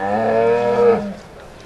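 A Hereford cow gives a single loud, close moo in a show ring, a drawn-out tonal call lasting about a second before fading into quiet.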